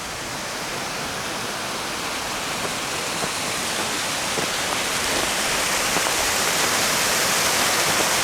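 A steady, loud rushing roar of the Masarè waterfall near Alleghe in the Dolomites, unbroken from start to finish, with no voices.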